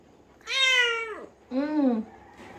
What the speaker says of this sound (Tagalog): lumabas na yung baby na. Nahihirapan yung pusa ko.